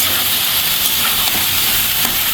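Mixed vegetables such as pointed gourd, potato, papaya, gourd and taro fry in a pan with a steady, close, bright sizzle that hisses on evenly without a break.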